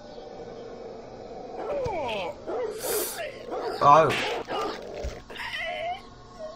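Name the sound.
dog biting a neighbor in Whack Your Neighbor video game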